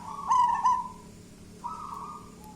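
A soft zebra dove cooing, from a captive-bred bird, a short rolling phrase followed by a lower drawn-out note, fairly close over faint background hiss.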